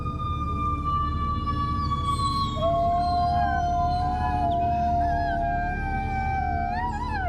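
Wolves howl in the evening near farms where sheepdogs are kept, with long sliding, wavering calls overlapping as several voices rise and fall over a steady low background hum.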